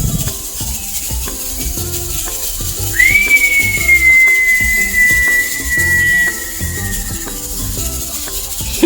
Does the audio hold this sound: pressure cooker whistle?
yes